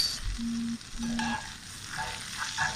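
Four cloves of garlic fry in butter with a little olive oil, giving a soft, steady sizzle with faint stirring and a couple of short tonal clinks, no voices.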